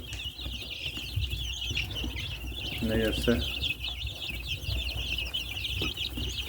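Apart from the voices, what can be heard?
chicks cheeping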